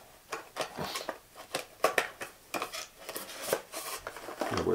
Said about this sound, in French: Je reprends le couvercle, je ferme la boîte.